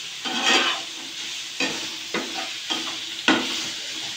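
Chopped onion and carrot stir-fried in a pan for chow mein, salted and tossed: a steady close sizzle broken by several bursts of scraping stirring at uneven intervals, with no talk.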